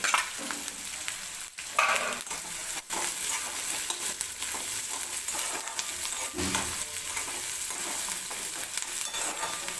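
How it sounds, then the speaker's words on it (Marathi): Chopped onion sizzles and fries steadily in hot oil in a pan for Marathi-style besan, with occasional stirring scrapes and clatters, close and continuous. "तर ही हलकासा मऊ होईपर्यंत कांदा आपल्याला तेलामध्ये भाजून घ्यायचा आहे."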